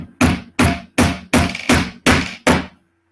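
Seven sharp, evenly spaced hammer blows drive an interchangeable peg into a handmade bow, each strike a loud close knock that rings out briefly before the next.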